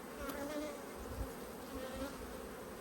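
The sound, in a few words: honey bees at hive bringing in nectar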